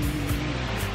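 Sea waves break and surge onto a sandy beach at Guimaras on a calm morning, a steady low wash of surf with rhythmic swells, close and continuous with no talking.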